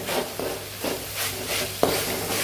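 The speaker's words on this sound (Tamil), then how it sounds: "பீன்ஸ் போட்டு பீன்ஸ் ஒரு 2 நிமிஷம் வந்து நல்லா வதக்கிடுங்க" Green beans and chilli sautéing in a pan for a vegetable samosa filling, a soft steady sizzle broken by repeated spoon stirs and one sharper clink against the pan, no talking.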